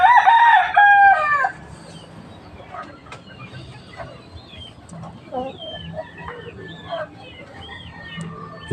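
Rhode Island Red chickens and mature 45-day broilers, with a rooster crowing loudly up close at the start, then scattered soft clucks and chirps from the flock over a low background hum.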